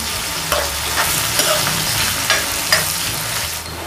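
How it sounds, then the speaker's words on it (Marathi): Onion and curry leaves fry in a pan with asafoetida, giving a steady broadband sizzle with a few brief stirring clinks and scrapes, close and alone with no talk. "कढीपत्त्याची पाने, कांदा, कांदा लालसर होईपर्यंत परतायचा आहे"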